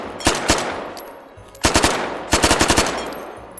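SMG fire in the VR shooter H3VR, three short bursts of rapid, cracking shots separated by brief gaps, loud and close with a quick reverberant tail after each burst.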